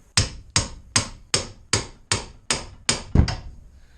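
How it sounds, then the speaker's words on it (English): Eight sharp, evenly spaced hammer blows driving a bushing into a 1979-95 full-size Chevy/GMC van, each a loud metallic crack with a short decaying ring, about two strikes per second. "now I need to, I guess, hammer it in some more"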